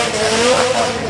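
Engine of a Mazda RX-7 drift car with a roughly 500 brake horsepower non-rotary power unit at the Goodwood Festival of Speed hillclimb, a loud, sustained, close roar with a steady droning tone over about a second.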